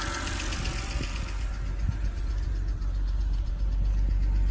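A BMW 328i E92 engine idles after an ignition coil and spark plug repair, a steady low rumble with faint ticking, close and continuous, no voices.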